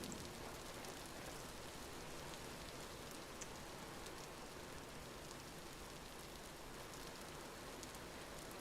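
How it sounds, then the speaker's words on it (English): Rain in the survival video game Vintage Story, a very quiet, even wash of downpour noise that stays unbroken and steady for several seconds, with no speech over it. "I'm not going to escape this rain"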